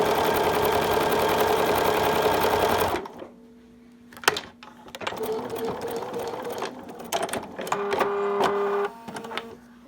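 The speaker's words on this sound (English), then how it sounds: "So I'm going to be sewing a 1/4 inch to either side of this line." A sewing machine stitches a quarter-inch seam along a quilt block, running in a loud steady burst at first, then resuming in shorter, uneven bursts with pauses and small handling clicks between them.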